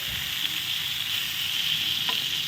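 Eggplant slices fry in oil in a covered pan, giving a quiet, even sizzle that runs steadily throughout.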